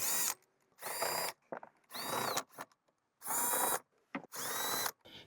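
Power tool spinning out six 10mm bolts from the dash of a 2014-2021 Lexus GX 460, heard as five loud, close bursts of whirring with short quiet gaps between them.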